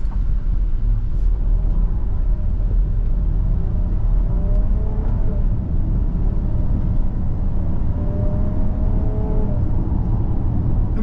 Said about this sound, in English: V6 just gets you right up to speed, no problem